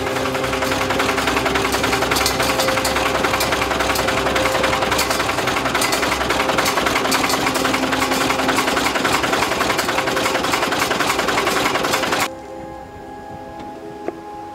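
A farm tractor engine runs steadily and loud at close range, holding a droning, even tone for about twelve seconds before cutting abruptly to a much quieter background hum.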